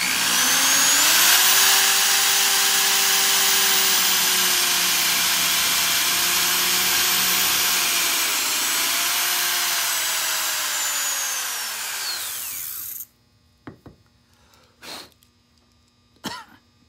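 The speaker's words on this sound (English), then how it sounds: "I have a drill. This is an 1/8-inch drill bit." A high-pitched electric drill with a 1/8-inch bit whines loudly and continuously for about twelve seconds drilling through a cast resin piece, its pitch dipping slightly under load, then stops, followed by a few soft knocks.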